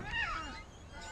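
A cat meows once in the video game What Remains of Edith Finch, a short, fairly close call with a rising-then-falling pitch over faint background ambience.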